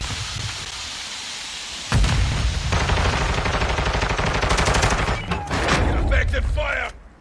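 Video game gunfire erupts suddenly and keeps up as loud, dense rapid bursts with a few pauses, players' voices mixed in, then it cuts off near the end.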